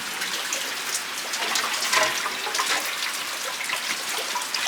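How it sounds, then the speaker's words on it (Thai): Water pours steadily for several seconds, a continuous gushing splash that swells slightly midway, with no talking. "ใส่น้ำเข้าไปก่อน"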